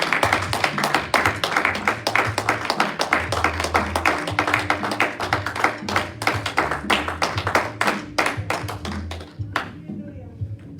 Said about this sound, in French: Nous allons lui offrir une forte acclamation au nom de Jésus